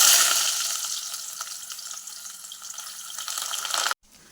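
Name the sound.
coconut pieces frying in hot oil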